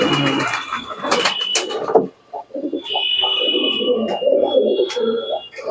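Andhra tournament pigeons coo and rumble close by in a loft, with a brief bumping clatter and a pause partway through before the low cooing resumes, mixed with faint chirps.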